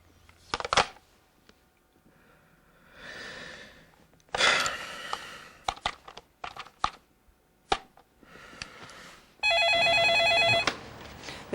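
A telephone rings in a sustained burst at the end, preceded by scattered clicks, keyboard-like taps and breathy sounds during a staged phone call scene.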